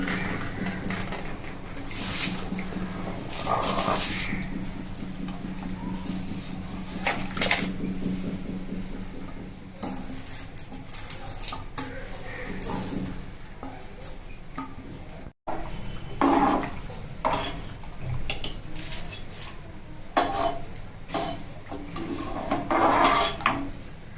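Rice tipped into a pot of boiling water with a spoon of onion-frying oil for Delhi darbar style chicken dum biryani, giving a steady busy wash of watery churning and pot clatter throughout, no voices.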